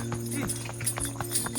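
A horse's hooves clip-clop in a quick, irregular rhythm on a mountain hiking trail, close by, with soft background voices.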